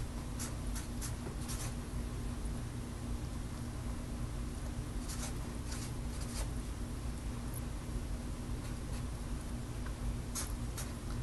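A pen draws on paper in a quiet room, giving a steady faint scratching with a few brief sharper strokes scattered through, no talking.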